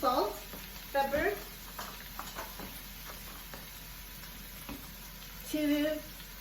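Tomato sautéing with mussels in a pan gives off a soft, steady sizzle, broken by scattered utensil clicks and scrapes as it is stirred. A person speaks briefly at the start and again near the end.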